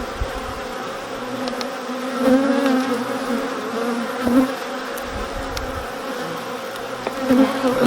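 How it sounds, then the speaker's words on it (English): Honey bees drone steadily on a beehive frame carrying a new queen, a dense close buzzing that swells slightly in waves. "You can see the bees tending to the queen"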